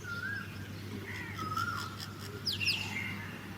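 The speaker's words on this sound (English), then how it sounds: "I can identify the common myna, some parakeets and the Asian koel, and of course the crow." A mix of outdoor bird calls over a steady low hum in a Delhi dawn chorus: whistled notes, chattering and harsh caws from common mynas, parakeets, an Asian koel and crows.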